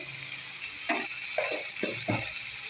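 Prawns frying in hot oil, a bright steady hiss with several short bursts of spattering and stirring near the middle, loud and close, no speech.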